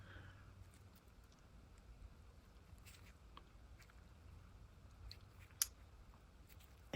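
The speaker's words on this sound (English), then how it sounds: "I took a chip brush and used a pair of scissors." Scissors snip the bristles of a chip brush in a quiet room, soft scattered clips at an irregular pace, faint against a low background hum.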